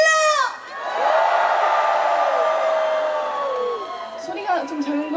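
Concert audience at a rose festival opening celebration performance in Imsil screams and cheers loudly, a sustained wall of high shrieks and whoops lasting several seconds before fading into scattered shouts.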